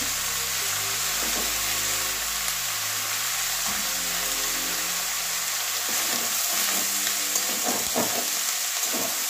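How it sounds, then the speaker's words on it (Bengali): Cabbage and potatoes with katla fish head stirred in a frying pan, a continuous loud sizzle broken by repeated scraping strokes of the spoon, close by. "যাতে না লেগে যায় ওই জন্য একটু এভাবে নাড়িয়ে দিচ্ছি"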